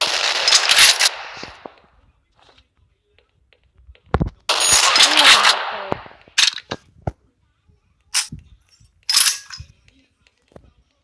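Gunfire in the video game Crisis Action rattles in loud automatic bursts, broken by single shots and short pauses, with casings clinking between volleys.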